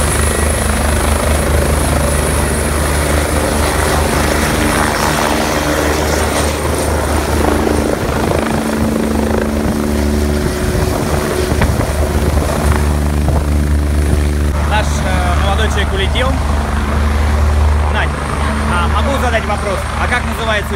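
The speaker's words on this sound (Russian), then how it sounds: "Вертолет, на котором мы летели." A helicopter flying over the Seychelles islands gives a loud, continuous rotor and engine roar, steady and close throughout, with faint voices mixed in.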